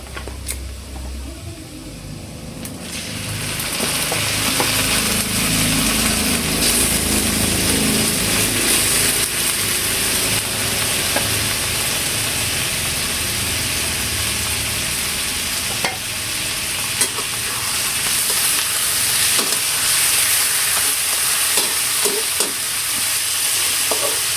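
Meat sizzles loudly in a hot pan while it is stirred for a simple Filipino dinner dish, starting quieter and then settling into a continuous frying hiss with occasional scraping clicks and no voices.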